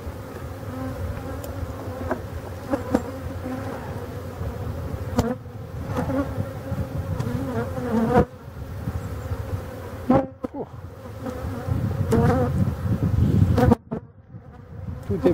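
A strong honeybee swarm in the year's hive hums loudly and continuously at an open box while a super is added in summer, the dense close buzz broken by brief handling knocks and gaps.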